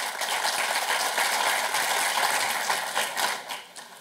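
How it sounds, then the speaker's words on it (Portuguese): Audience applause at the opening of a construction industry conference, a dense, steady patter of many hands clapping that gradually thins and fades toward the end. "Palmas ao Fernando."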